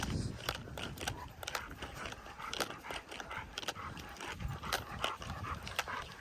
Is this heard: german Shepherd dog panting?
yes